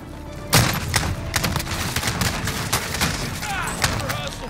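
Gunfire crackles in a video game firefight, opening with a sharp loud shot followed by scattered cracks and thuds over a busy background, with voices talking underneath.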